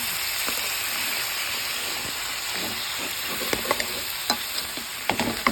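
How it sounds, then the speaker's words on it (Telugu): Chicken frying in a pan on a gas stove, a loud continuous sizzle and hiss with scattered scraping stirs growing more frequent toward the end, close up. "చికెన్ గ్యాస్ ఇంట్లో పెట్టుకొని మంచిగా కలుపుతున్నాను"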